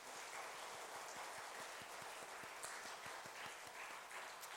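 Church congregation clapping together during a worship service, a steady, even wash of many hands, rhythmic and sustained throughout, fairly distant and soft.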